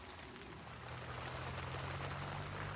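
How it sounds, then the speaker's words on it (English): Steady rain pours down in a dense, continuous hiss, fairly quiet and muffled, with no one speaking. "as you probably hear outside, it's absolutely chucking it down with rain"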